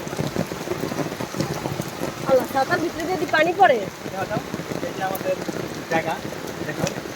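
Heavy rain pours steadily over a village in a dense, hissing patter, and voices talk over the downpour at moderate distance.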